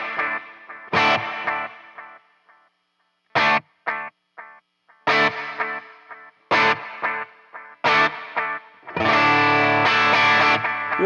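Electric guitar through Suhr Bella and Suhr Hombre amps with a boost pedal, a touch of delay and reverb, run into a Torpedo Captor X: loud, close, distorted chords and stabs with short pauses, building to a sustained strummed passage.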